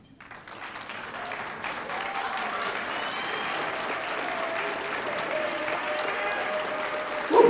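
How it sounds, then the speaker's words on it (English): Students stand and applaud one another at a university award ceremony. The clapping swells from a few hands into loud, sustained applause across the room, with a brief cheer or shout rising near the end. "all the students in the room, to stand up and clap for each other"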